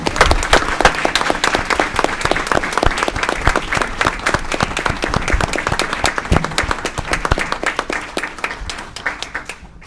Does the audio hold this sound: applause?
yes